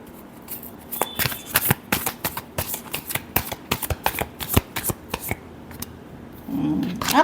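Tarot cards are shuffled by hand in a quick run of crisp riffling snaps close to the microphone, ending with a softer rustle as the deck settles.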